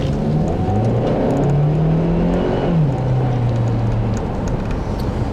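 A 2009 Acura RDX turbocharged four-cylinder accelerates steadily, its engine note rising through the gears with a smooth turbo pull, recorded close and loud with no talking.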